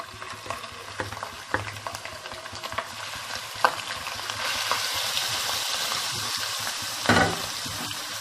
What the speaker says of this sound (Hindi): कीमे को घी में फ्राई करना है।